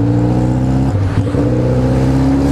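A remapped Yamaha XJ6 motorcycle engine drones loud and close with a steady, rich tone. It dips and surges briefly partway through before settling back into a sustained rev.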